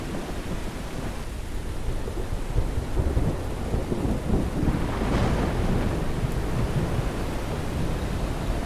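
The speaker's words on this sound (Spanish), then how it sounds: "Contra el estruendo del trueno" Heavy rain pours in a dense continuous hiss while deep thunder rumbles and swells through the downpour.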